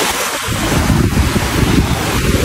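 Sea waves washing continuously onto the shore at Mata de Uva beach in Veracruz, a steady broadband surf roar with wind buffeting the microphone, loud and unbroken with no voices.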